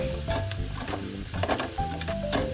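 Squash sizzling in a hot pan with oyster sauce while being stirred, giving a steady crackle broken by repeated scraping strokes, close and moderately loud.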